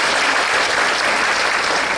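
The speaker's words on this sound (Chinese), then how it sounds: "可以掌声一下" An audience in a university lecture hall claps steadily, a dense, even wash of applause that holds at the same level from start to finish, with no voices above it.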